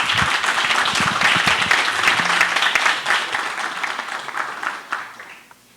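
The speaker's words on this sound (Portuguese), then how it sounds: "Breno, agora uma salva de palmas para eles, por favor." An audience at a conference on digital transformation in municipalities gives a round of applause for the panel speakers, dense close clapping that carries steadily for several seconds before fading out.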